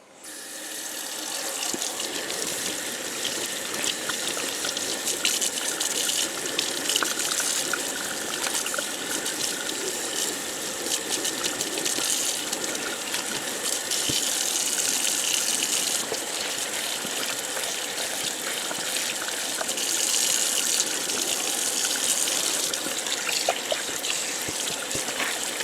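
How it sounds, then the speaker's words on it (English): Tap water running steadily into a sink while ice-dyed tie-dye fabric is rinsed out, a continuous close gushing and splashing that stays fairly even throughout. "So let's go ahead and wash this out."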